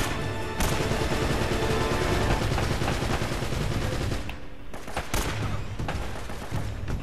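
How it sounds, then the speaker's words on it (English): Sustained AK rifle gunfire in the video game Uncharted: Drake's Fortune, a dense, loud barrage of rapid shots with short breaks near the end and crashing impacts throughout. "I'm switching to my AK for the guys over there"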